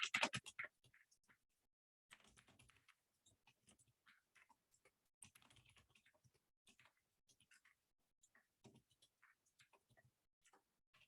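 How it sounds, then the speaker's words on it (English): A computer keyboard is typed on in faint, quiet clusters of light clicks, pausing briefly between bursts of keystrokes. "I'm going to take a moment to type up"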